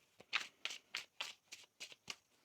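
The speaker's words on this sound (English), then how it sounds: "One more shuffle." Tarot cards being shuffled by hand, a series of about eight quick riffling bursts at a steady rhythm, close and soft, with no talking.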